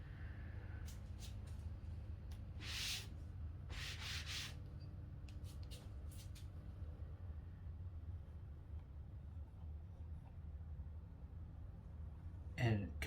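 1000 grit sandpaper rubbing on a 1980 Ribbecke guitar during restoration, soft intermittent scratchy strokes in short bursts, faint and close over a low background hum, with a brief louder rub at the end.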